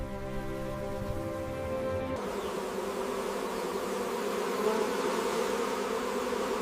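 Bees hum as a steady, low buzzing drone that holds for several seconds and shifts into a denser, rougher swarm texture partway through, with no voices.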